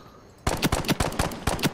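Rapid bursts of gunfire from the online shooter Ironsight, a dense run of sharp repeated shots starting abruptly and continuing in uneven clusters, loud and close with no talk over them.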